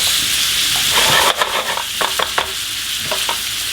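Chicken for a carbonara frying in a pan, a loud steady sizzle with bright crackle throughout, broken by a few short scraping knocks as the pieces are flipped.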